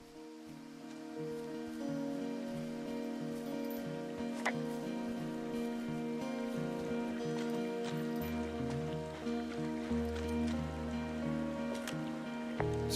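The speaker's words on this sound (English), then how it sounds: "It's a really nice waterfall down here." A waterfall in the video game Firewatch gives a steady, full rush of falling water that holds constant throughout, joined by a low tonal drone partway through.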